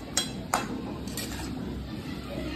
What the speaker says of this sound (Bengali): ঢাকা দিয়ে দিচ্ছি আমি।